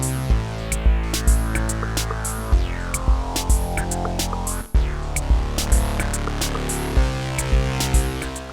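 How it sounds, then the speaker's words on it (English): Deluge synth pattern run through a distortion effect, a steady throbbing sequence of rich, buzzy tones with repeating percussive hits, loud and close with no talking. "Let's add some distortion."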